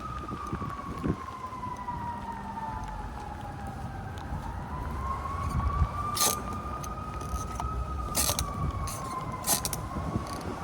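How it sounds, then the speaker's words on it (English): Fire truck sirens wail at a distance, rising and falling slowly over constant background rumble, with a few sharp clicks and knocks nearby. "I hear the fire trucks."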